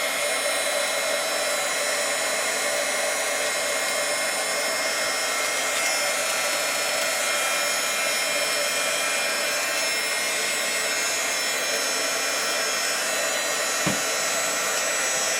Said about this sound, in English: And then I get my trusty heat tool, turn it on.